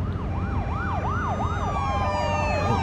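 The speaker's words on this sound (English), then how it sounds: "I was watching the police cars." Police car sirens wail in The Walking Dead video game, a loud rising-and-falling electronic siren sweeping repeatedly over a steady rumbling engine background, with no talking.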